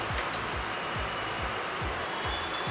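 Hot air rework station blowing steady air at 330 degrees with airflow 50 to preheat the CPU of a Moto Edge 60 Fusion phone, a continuous close hiss with a soft rhythmic low thumping underneath.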